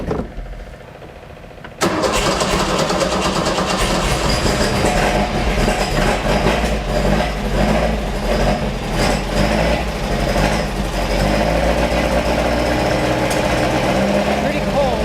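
A cold Beck 550 Spyder replica engine cranks and catches after a quiet lead-in, then settles into a loud, steady, rumbling idle that runs continuously and close by.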